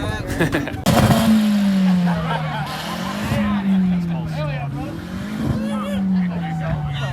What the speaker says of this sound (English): There's a rev bombing in the Walmart parking lot.